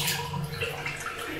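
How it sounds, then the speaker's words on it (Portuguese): Shower running in an apartment bathroom, a strong steady spray of water hissing continuously and close by, with no talk over it. "Chuveiro."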